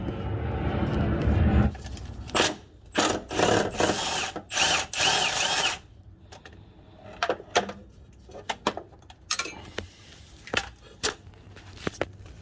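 A 10mm bolt is worked loose with a socket on a long 23-inch extension during Nissan 350Z transmission removal: a run of close, loud mechanical bursts, then sparser sharp clicks and knocks with no talking.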